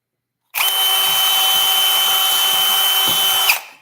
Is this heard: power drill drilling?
yes